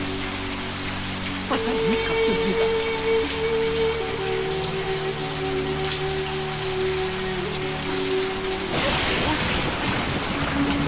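Heavy rain pours steadily onto the ground and surfaces, a dense continuous hiss throughout, with a voice speaking briefly over the downpour.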